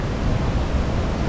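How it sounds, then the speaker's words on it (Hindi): Roaring waterfall in Spiti Valley, heard as a loud, unbroken broadband rush of water close by, with no voices over it. "भाई इतनी जोर के हो रही है ना, मतलब आवाज़ इसकी वाटरफॉल की"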